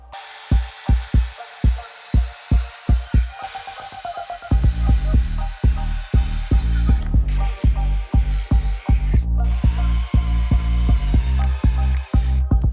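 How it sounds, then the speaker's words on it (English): A power saw cuts wood pieces at a 30-degree angle for an antique wishing well, with loud repeated bursts of rough mechanical buzzing and a sustained higher whine partway through. "We're cutting these again at a 30-degree angle."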